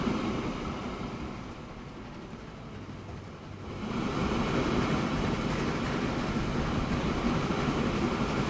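A steam locomotive in the train simulation game Transport Fever 2 rolls along steadily, its low rumble and rail noise swelling louder about halfway through and holding a dense, continuous drone with no talking.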